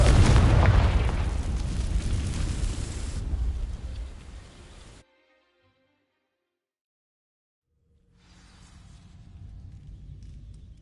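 A Confringo fire spell explodes in the video game Hogwarts Legacy, a loud roaring blast that fades over a few seconds, then silence before a softer crackling rumble returns.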